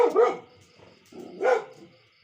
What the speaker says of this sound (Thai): น้องหมาออกมาเห่า